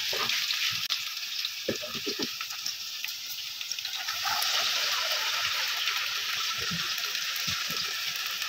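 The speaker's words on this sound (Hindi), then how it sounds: "फ्राई करेंगे इसे" Chicken fingers deep-frying in hot oil, a steady hissing, bubbling sizzle that swells slightly midway, with occasional soft clicks and no speech.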